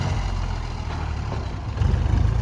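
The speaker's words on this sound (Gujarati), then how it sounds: "અહીંયા ભાણોભાઈ બેસી ગયા છે ટ્રેક્ટરમાં।" Tractor engine idling on a village farm, a continuous close low rumble that grows louder in the final second.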